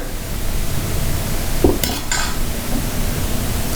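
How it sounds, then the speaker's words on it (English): Plantain chips being stirred and tossed with a powder of rice, sugar, pepper, ginger and cardamom, giving a steady soft scraping and rustling with a brief clatter midway. "Just keep mixing so that the powder is also coated on all the pieces and at every side"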